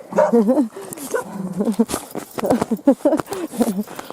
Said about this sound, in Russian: Здесь у нас маленькая собачка, Шарик.